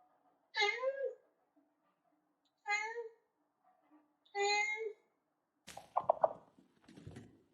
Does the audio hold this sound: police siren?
no